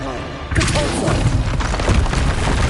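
Depulso spell impact in the video game Hogwarts Legacy, arriving as a deep booming thud after a short quiet lead-in and then sustaining as a heavy, rumbling blast with crackling debris.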